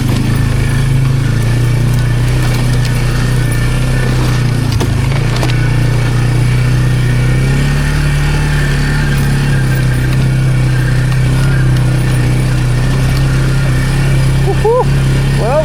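A Polaris Magnum 330 ATV engine running on a bumpy test drive, a loud constant low drone that holds steady throughout, close up with faint rattles and a voice speaking over it.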